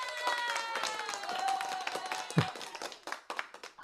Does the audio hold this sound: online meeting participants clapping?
yes